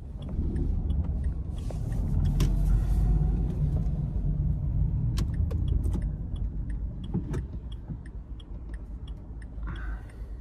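A Dacia Logan drives through moderate traffic in Buzău, its cabin filled with a steady low engine and road rumble, with a few faint clicks and rattles and the noise easing slightly toward the end, with no talking.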